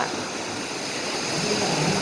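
Large surf of about two metres or more rolls and breaks continuously at Kalim Beach, Phuket, during a surfing contest, a steady, dense wash of crashing water without any clear pauses.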